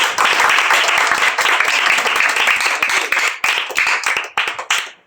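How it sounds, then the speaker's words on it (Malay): Camp participants clap loudly together, a dense burst of hand claps that gradually thins into scattered individual claps near the end. "Jadi tepuk tangan kuat-kuat."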